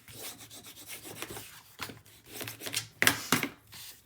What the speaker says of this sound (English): Give it a good old burnish.